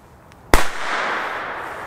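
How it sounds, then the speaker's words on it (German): A Bo Peep Pyro Cracker firecracker from the 1980s goes off outdoors in one sharp, loud bang that trails into a rumbling, echoing decay, with no talk over it. "Ein sehr schöner Böller, der hat sich noch gelohnt."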